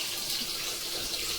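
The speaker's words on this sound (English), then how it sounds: "rinse them really, really well in cold water" Cold water running steadily from a kitchen tap as cooked noodles are rinsed in a colander, a continuous even splashing rush with no pauses.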